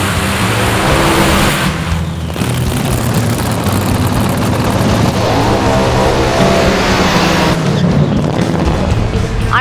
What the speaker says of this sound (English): We're running this KB Elephant motor, and we're revving it up, popping the clutch with a pedal clutch.